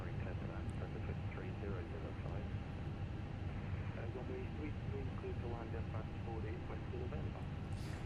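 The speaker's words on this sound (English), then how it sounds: "we'll go and boot up engine number 2" An Airbus A320 engine spooling up in a flight simulator, a steady dense roar and rumble throughout with faint whirring, while someone talks over it.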